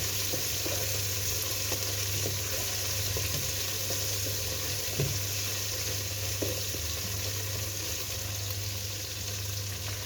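Onions fry in a pan with a steady, close sizzle that continues unbroken, and faint stirring clicks come through now and then. No one speaks.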